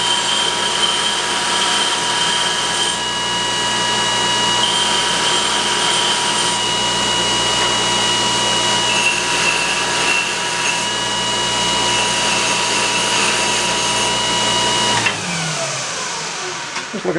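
A belt sander grinds steady and loud against the edges of a metal pipe piece for a Datsun 521 ball joint modification, a continuous whine that cuts off abruptly near the end and then winds down.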